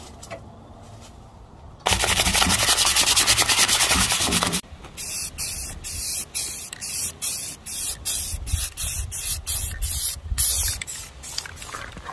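A spray can hisses loudly in one steady burst of about three seconds, coating a tractor seat with yellow paint for a lawn mower mod, followed by scattered rustling and clicking handling noises.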